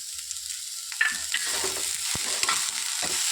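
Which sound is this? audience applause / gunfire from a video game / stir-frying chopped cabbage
stir-frying chopped cabbage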